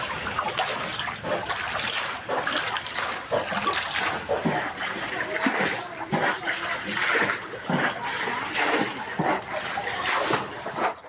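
Flood water splashes on a waterlogged Bangalore road after heavy rain, with repeated irregular surges and sloshing bursts, some near and loud, mixed with vehicle noise and voices in the background.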